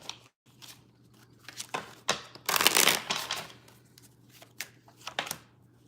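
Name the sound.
shuffling tarot cards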